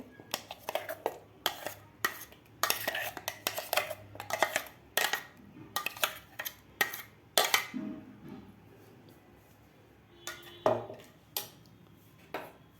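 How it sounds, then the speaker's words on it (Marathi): Mango paste is scraped into a kadhai with a utensil. Sharp metallic scrapes and knocks come in irregular bursts, louder early on and then sparser, in a quiet kitchen. "आता आपल्याला हे आंब्याची पेस्ट सगळी या कढईमध्ये घालायची आहे."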